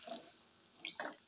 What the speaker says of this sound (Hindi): इसमें हम पानी को ऐड करेंगे